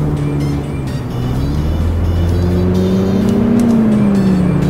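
A late-model Toyota Camry motors along in the City Car Driving simulator, its engine a steady loud drone with gently rising and falling pitch as it gathers speed, no voices over it.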